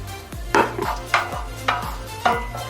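A spoon stirs a flavoured sauce with lemon juice and coriander stems through chicken nuggets, giving four evenly spaced wet scraping strokes, close and fairly loud.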